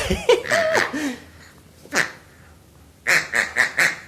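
A duck quacks several times, with scattered calls at first and then a quick run of four quacks near the end, close and clear.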